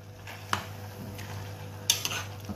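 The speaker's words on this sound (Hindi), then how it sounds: "उसको मुझे संभाल कर थोड़ा सा चलाना है।" Careful stirring of tomatoes and beef for tomato gosht in a full pressure cooker, with a few sharp metallic scrapes and clinks of a spoon against the pot over a low steady background hum.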